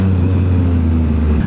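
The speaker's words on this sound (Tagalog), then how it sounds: "Traffic ng EDSA." Road traffic on EDSA in Metro Manila drones as a steady low rumble of engines heard from a Triumph Trident motorcycle, continuous and fairly loud with no voices.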